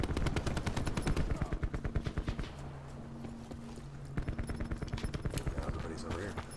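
Rapid bursts of automatic gunfire in Call of Duty: Modern Warfare, loud sharp rattling volleys in quick rhythmic strings, pausing briefly midway before resuming, with a voice talking underneath.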